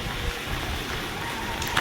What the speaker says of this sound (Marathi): आणि हे इथं मुखातून पाणी पडतंय